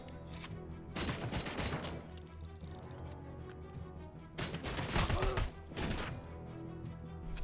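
Gunfire in the video game Robocop: Rogue City: dense, loud bursts of rapid shots in two main volleys with crashing impacts between them, with almost no talk.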